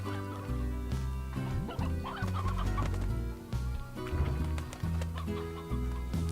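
Chickens cluck in the Slime Rancher video game, several birds pecking and chattering under steady background game music, with no talking.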